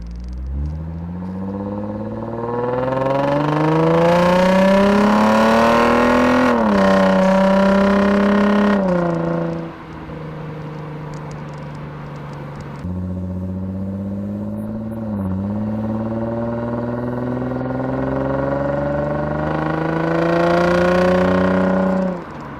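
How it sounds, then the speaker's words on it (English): A Lexus RC sports car's exhaust drones loudly as it drives, rising in pitch through the gears with brief dips at each shift, steady and close. "so you guys can hear the exhaust"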